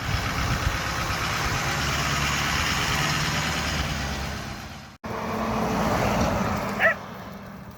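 A Ford Bronco engine hums steadily during a test drive after its tie rod end was replaced. The drone drops out abruptly midway, then comes back with a brief higher-pitched squeak.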